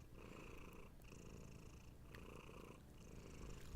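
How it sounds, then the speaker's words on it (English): A cat purrs close and soft, with a steady rhythmic rumble rising and falling in about four breath cycles, alone and quiet. "Aw, so much purr."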